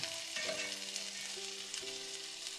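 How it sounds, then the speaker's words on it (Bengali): Tripe (bhuri) frying in a pan gives a continuous hiss and sizzle with a faint tonal hum underneath, steady and close throughout. "এই যে ভুড়ি ভাজি করতেছি"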